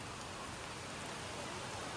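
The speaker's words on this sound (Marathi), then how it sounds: "पाऊस लागायला लागलाय." Rain falls steadily outdoors during a friends' outing to a waterfall in Devgad taluka, a dense, even hiss that stays close and unbroken throughout, with no voices.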